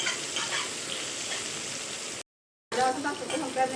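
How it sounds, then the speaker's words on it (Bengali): Onions fry until brown in a pan of hot oil with bay leaves for Bengali-style chicken kosha, giving a steady, close, even sizzle that cuts out briefly before resuming. "পেঁয়াজগুলোকে ভালো করে একটু ব্রাউন কালার করে ভেজে নেবে"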